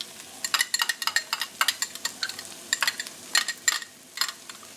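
Garlic dropped into a pan with browning onions gives bursts of close, crackling sizzle with clinks of a utensil stirring, in irregular clusters.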